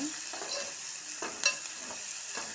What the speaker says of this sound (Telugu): చూడండి, మంచిగా వేగుతున్నాయి.